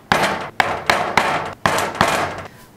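A mallet strikes a punch to cut out a homemade gasket, giving about six sharp, evenly spaced, close-up blows with no talking.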